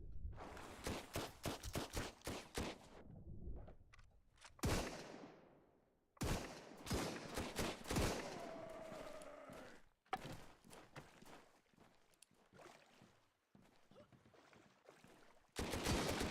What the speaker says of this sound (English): they're shooting through the floor